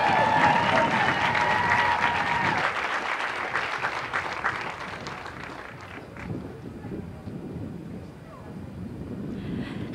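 A pageant crowd cheers and applauds for Miss Alabama at a Miss America arrival ceremony, a dense, steady wash of clapping and shouts that stays loud throughout and dips slightly near the end.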